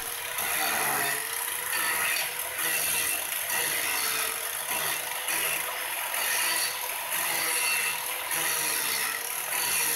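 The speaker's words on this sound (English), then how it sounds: "Here I'm using a new wheel made by Diablo that does a great job at quickly carving in the details." A Diablo carving wheel on a grinder cutting details into a workpiece, a continuous close, loud whirring grind with rhythmic pulses as the tool is worked back and forth.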